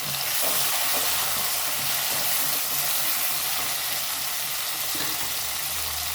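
Garnish frying in a pan for karabath, a steady, loud broadband sizzle that hisses continuously throughout with faint stirring scrapes, no voices.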